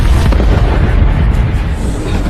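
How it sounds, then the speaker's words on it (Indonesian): A heavy, rumbling boom of a big explosion shaking a train, rolling on continuously, loud and low, fading only slightly toward the end. "Lalu tiba-tiba sebuah ledakan besar mengguncang kereta."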